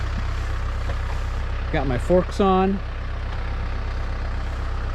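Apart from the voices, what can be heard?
tractor engine idling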